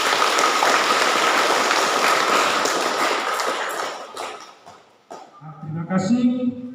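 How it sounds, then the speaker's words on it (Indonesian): A congregation claps during a church thanksgiving mass celebrating a priest's 26th ordination anniversary, loud and dense at first, then thinning out and fading before someone speaks. "Mari kita sama-sama menyatakan profisiat kita buat jubilaris Patritus dengan tepuk tangan bersama"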